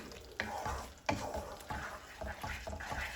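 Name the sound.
stirring aloo matar masala frying in oil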